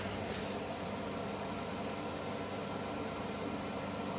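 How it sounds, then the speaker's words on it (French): A microwave oven drawing about 1400 watts from a solar battery kit hums steadily and loudly throughout, a constant broadband whir with no talk over it. "Si on met le micro-ondes, donc là on va consommer 1400 watts"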